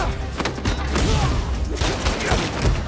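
Rapid, loud bursts of gunfire crackle almost continuously in a Spider-Man 2 game scene, dense and close for the whole stretch.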